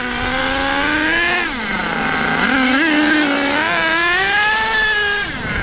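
A nitro engine in an HPI Savage RC truck, with a scratched sleeve, on its first test run: a loud, close, continuous buzzing whine that dips and climbs in pitch as the throttle changes, with no talking.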